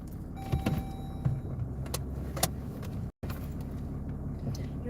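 A car rolls along a rough, bumpy Australian road, giving a steady close rumble with rattles and clunks from the cabin and one brief dropout, without talk.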